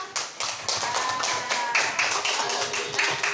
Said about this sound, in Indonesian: Ya, tepuk tangan buat kita bersama.